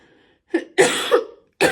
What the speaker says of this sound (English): I've still got a bit of a Christmas cough left.